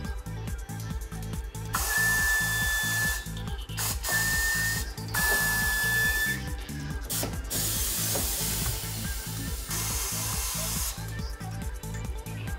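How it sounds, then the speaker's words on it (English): TWIN BUSCH TW X-36 WDK tyre changer clamping a rim on its turntable: a rapid, regular mechanical clatter of pneumatic clamping jaws, with hissing air bursts that start and stop several times, no talk. "Now the rim will be held on the turntable by the clamping jaws."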